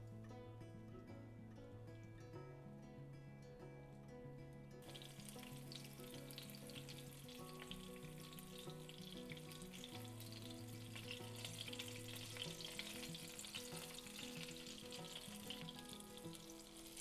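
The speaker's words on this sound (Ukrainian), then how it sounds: "І обсмажуємо з обох боків на пательні." Pumpkin cottage cheese pancakes frying in a pan, a soft steady sizzle under louder background music.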